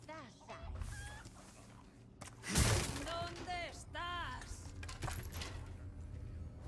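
A chicken in the Resident Evil 4 Remake game clucks in short bursts under a man's chatter, with a sharp loud knock partway through.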